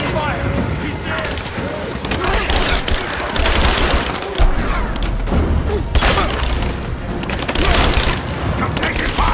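Video game gunfire from a Rise of the Tomb Raider firefight: repeated loud bursts and cracks of automatic fire with booms, mixed with shouting voices of enemy soldiers.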